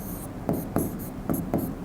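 Marker or chalk strokes on a classroom board during a chemistry lesson, a series of short scratchy rubbing bursts in an uneven rhythm, close and fairly quiet with no speech.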